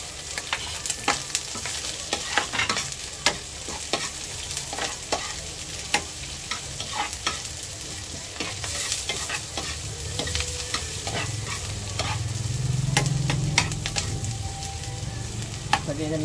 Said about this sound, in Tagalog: Singatin natin yung ating sibuyas at sili.